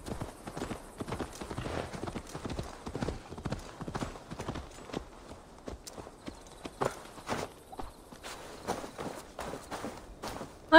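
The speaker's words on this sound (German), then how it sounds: "Zum Glück haben sie mein Pferd stehen lassen." Horse hooves clip-clop in Assassin's Creed Valhalla, a brisk, steady run of close hoofbeats on hard ground with a few louder strikes near the end.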